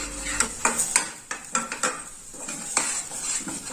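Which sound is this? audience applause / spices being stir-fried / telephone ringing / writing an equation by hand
spices being stir-fried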